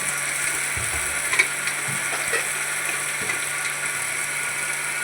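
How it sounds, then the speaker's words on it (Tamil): Green chillies and onion sautéed in a pan for chicken kuzhambu, giving a dense, even sizzle with faint occasional stirring knocks, close up and without speech. "கொஞ்சம் பச்சை மிளகா ஆனியன் இதையும் சேர்த்து நல்லா வதக்கிக்குவோம்"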